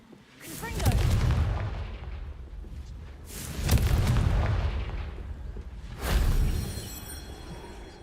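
Confringo blasting-spell explosions from a wizarding video game: three heavy booming blasts a few seconds apart, each with a rumbling tail.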